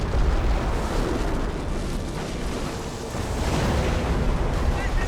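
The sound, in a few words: artillery barrage explosions in Company of Heroes video game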